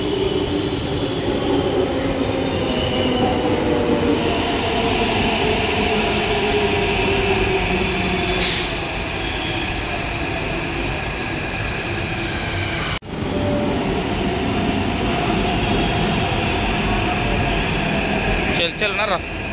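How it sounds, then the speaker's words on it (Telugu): A Hyderabad metro train rolls along with a steady loud rumble and hum inside the carriage, a brief sharp jolt partway through, and faint voices beneath the rail noise. "ఇప్పుడే మెట్రో దిగినాము."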